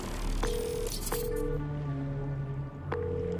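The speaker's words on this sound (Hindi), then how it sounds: "हैरी को फोन कर रहा भाई" A phone call rings out in the Spider-Man 2 video game, a few steady electronic tones sounding in separate bursts over a dense, noisy game background.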